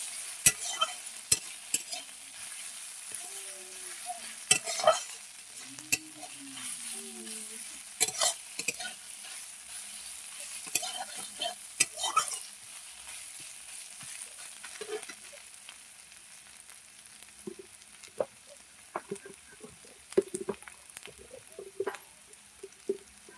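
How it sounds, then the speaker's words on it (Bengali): Ginger and garlic frying in a pan until reddened, a soft steady sizzle under repeated scrapes and clinks of a spatla stirring, irregular and close, with no talking. "আদা রসুনটাকে ভালো করে লাল লাল করে নেব।"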